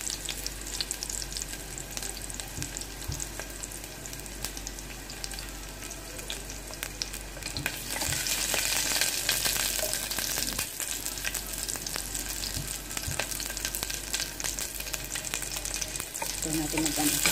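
Onions fry in a pan with a dense, loud, continuous sizzle that swells brighter about halfway through, while occasional faint knocks and stirring clatter sound underneath.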